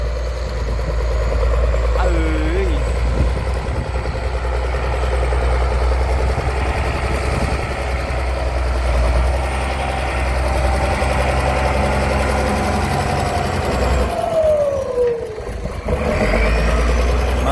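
A 7840 turbo tractor engine running steadily and loudly at close range, a continuous low throbbing drone with a brief dip near the end, pushing soil in a field.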